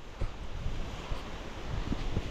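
Strong wind in a lanzones orchard during fruit picking, gusting and buffeting the microphone with low rumbling thumps and a steady broadband rush, loud and close throughout.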